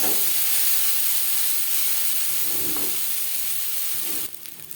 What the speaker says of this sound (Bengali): সবজির সাথে পাস্তা বেশ ভালো করে মিক্স করে দেবো।